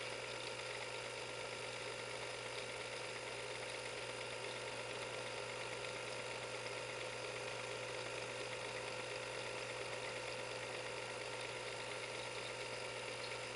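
A visible V8 model engine idles quietly and steadily, giving a soft, even mechanical whir with faint ticking throughout, unchanging and without any voices.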